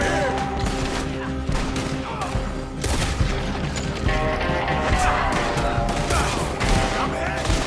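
Rapid gunfire bursts and booming shots in a Red Dead Redemption 2 shootout on PS5, dense and continuous, with shouting voices woven through the battle noise.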